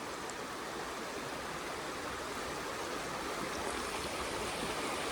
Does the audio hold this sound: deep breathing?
no